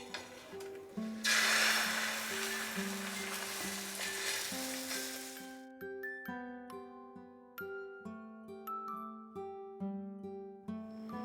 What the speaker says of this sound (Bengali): ভালো করে আমরা রুটিটাকে ফ্রাই করে নেব।